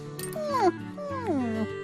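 A handsome, brave cartoon dog gives two short yelping, whimpering cries, each sliding downward in pitch, close and fairly loud with a brief gap between them.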